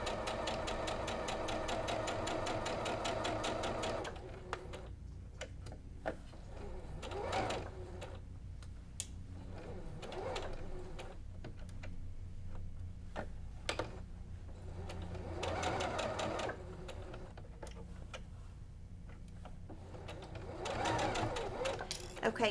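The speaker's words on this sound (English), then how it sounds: "And you're just gonna keep sewing." A sewing machine stitches a flying geese zig zag quilt block, a fast mechanical whir heard in several runs separated by pauses, with a voice talking quietly between the bursts.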